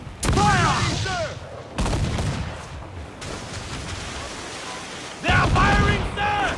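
Naval cannon broadsides in the pirate-ship video game Assassin's Creed IV: Black Flag, several heavy booming volleys in bursts with roaring rumble between them, loud and close, while crew members shout over the blasts.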